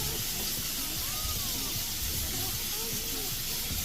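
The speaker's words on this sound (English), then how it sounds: "I can go ahead and strain off my beans into my strainer, and I can give those a nice extra rinse" Running water pours steadily through a strainer full of strained beans, a constant close hiss with a voice talking faintly beneath it.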